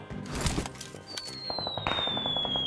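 A burst of crackling blasts and booms from a video game explosion, followed by a rising whistle tone and rapid popping, dense and loud throughout.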